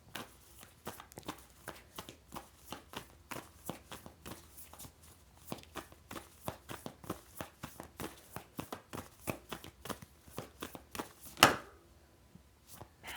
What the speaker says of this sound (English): These cards are so flimsy. They have been since the day I got them. It's hard to keep a handle on them.